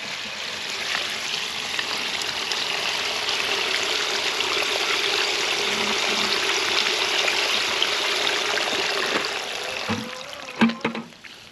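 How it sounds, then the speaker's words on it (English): Bucket of water dumped into a French drain, a continuous rushing, splashing pour that holds steady for about nine seconds, then tapers into trickles and a few final splashes and knocks. "So we'll take our other bucket of water. This is gonna be so cool, Britt. And we're gonna dump it in here"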